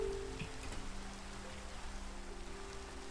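Rain falls steadily in the Minecraft video game, a continuous soft hiss of drops on surfaces with a faint low hum beneath it and no talk.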